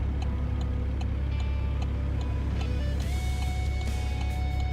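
A truck engine in American Truck Simulator drones steadily and loudly throughout, with shifting tonal whines rising as the truck accelerates and light ticking clicks on top.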